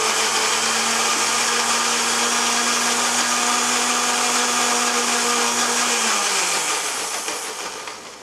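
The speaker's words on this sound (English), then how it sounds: "Let's get the blender started." A blender whirs steadily at full speed while chopping kiwi fruit, a loud constant motor drone that spins down near the end.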